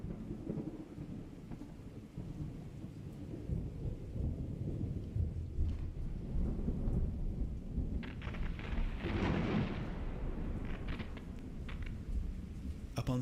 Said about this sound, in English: Perhaps it was nothing but the rumbling noise of a distant thunderstorm.